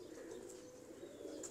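Pigeons with ringed eyes, kept pairs in a loft, give a low, soft, continuous cooing that sounds close but faint, with no talk over it.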